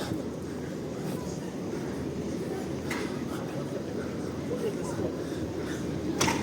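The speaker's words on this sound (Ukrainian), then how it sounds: "Трамвайчик та одиничка." A route 1 tram passes in Lviv's Market Square during a women's day fair, its steady low rumble and rolling hum carrying through the square beneath talking and crowd noise.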